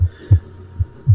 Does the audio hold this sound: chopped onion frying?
no